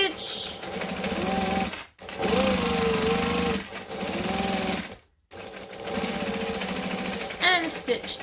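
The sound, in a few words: sewing machine back stitching a bag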